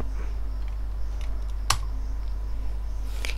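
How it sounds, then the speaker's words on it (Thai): Typing on a computer keyboard: scattered close key clicks, with a few sharper taps, over a steady low electrical hum. No one speaks. "พิมพ์คำว่า composer update"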